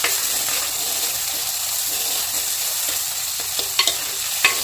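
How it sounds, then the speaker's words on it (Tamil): Onions and garlic fry in oil for a sardine fish curry, a steady close sizzle with faint stirring scrapes and a few sharper clinks near the end. "இது எல்லாத்தையும் நல்லா செவக்க வறுத்துட்டு"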